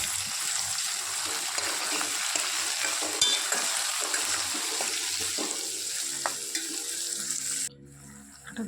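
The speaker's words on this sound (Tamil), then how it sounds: "தக்காளியை கட் பண்ணி வச்சுருக்கிறது போட்டு அதையும் நல்லா வதக்கணும்." Chopped tomato sautéing with onion and garlic in a pan for an okra tamarind curry, a loud steady sizzle with spoon scrapes, easing to quieter clinks near the end.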